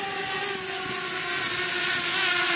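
A homemade 3D-printed drone flies nearby, its motors giving a loud, steady high-pitched whine with a constant tone.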